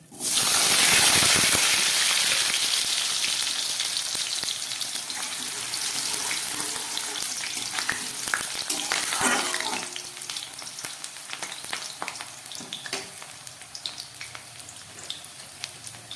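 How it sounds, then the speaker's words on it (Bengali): Potatoes drop into hot oil with a loud, bright burst of sizzling that gradually settles into a steady crackling fry, with occasional stirring scrapes and spits close by. "তেলটা গরম হয়ে গেছে আমি আলুগুলোকে ভেজে নিচ্ছি"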